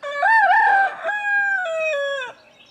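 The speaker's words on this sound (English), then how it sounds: "boy, that chicken's a pain." A rooster crows loudly and close by in a garden with raised beds, giving one long, full cock-a-doodle-doo with a rising start and a drawn-out ending, heard alone.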